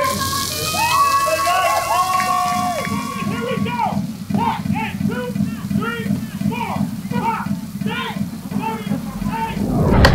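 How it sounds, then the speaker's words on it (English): Rain falls on an outdoor music video set, a steady broadband hiss beneath continuous nearby talking and lively voices. "Rain is gonna happen, and this is it."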